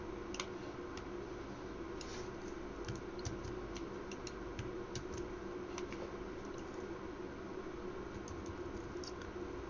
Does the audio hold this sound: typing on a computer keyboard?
yes